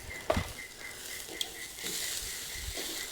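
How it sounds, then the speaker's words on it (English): Steady crackling sizzle of picanha beef cooking on a grill, a continuous hiss with a few sharper pops near the start. "Look at that, sizzling, bubbling away."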